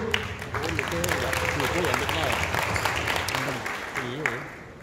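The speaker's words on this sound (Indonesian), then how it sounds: "Kita tepuk tangan dulu" Audience applause with a crowd murmuring at a Yamaha NMAX Turbo 2024 product presentation, while a voice talks over it throughout.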